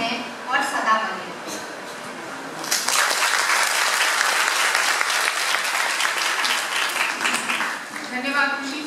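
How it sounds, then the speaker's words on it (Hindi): Loud audience applause at a literary event marking Premchand's birth anniversary, rising after a few seconds of voices and continuing as dense, sustained clapping before tapering near the end. "इनके लिए जोरदार तालियां"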